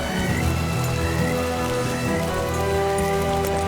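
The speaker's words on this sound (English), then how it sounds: "Riding in the rain will make you want to hunch into your chest and bolt for cover." Steady rain falling on surfaces in the Red Dead Redemption 2 open world, a dense continuous patter with no voices, loud and even throughout.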